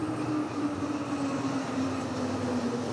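A Lyon metro train runs with a steady, loud rumble and a continuous tonal whine throughout, heard close from inside a wide metro car with no talk.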